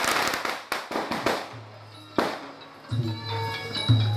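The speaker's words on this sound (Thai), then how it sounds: "พอได้ยินเสียงประทัดนี่รีบ หมอบลงกับพื้นหญ้าเลย" Firecrackers set off at a Thai temple teacher-honouring ceremony crack in a rapid string of sharp, loud bangs, then a few scattered later pops over a droning background hum.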